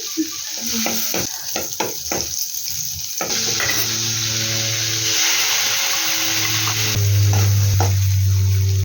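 Butter heats in a kadai for paneer butter masala, first some clinks and taps, then a loud steady sizzle with bubbling that grows stronger near the end.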